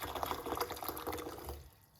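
Hot water pours steadily into a cup for a rosemary tea, a close, splashy stream that runs for about two seconds and then tapers off.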